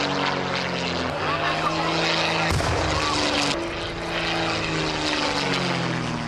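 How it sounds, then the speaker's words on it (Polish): Propeller replica fighters, a BF-109 and a JAK-51, flying at an air show, with a loud, continuous engine drone and a sharp pass partway through. "Perełką Teatru Historii była wojna powietrzna, która rozegrała się pomiędzy replikami samolotów BF-109 oraz JAK-51."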